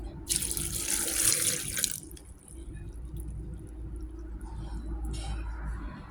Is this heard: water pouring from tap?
yes